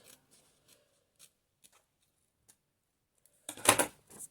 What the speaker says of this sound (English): I'm going to cut away this close to the seam, to the fold